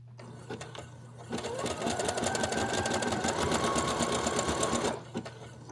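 Sewing machine running a zigzag stitch, a rapid rhythmic mechanical chatter that starts after a few light clicks, runs steadily for several seconds and then stops, over a low background hum.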